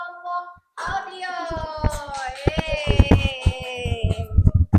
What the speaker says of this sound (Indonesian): Oke, tepuk tangan untuk kelompok audio.